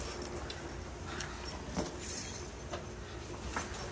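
A set of new keys jangles close by in a few quick metallic rattles, fairly soft against a steady background hiss, with no speech.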